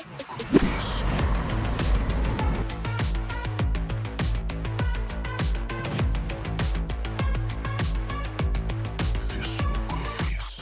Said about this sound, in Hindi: हमने शुरू कर दिया है मारुति सुजुकी नेक्सा फ्रॉन्क्स के ड्राइव की